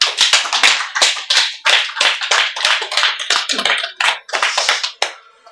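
Sharp, close hand claps ring out loud and irregular, a quick scattered series of about two dozen crisp slaps with short gaps between them.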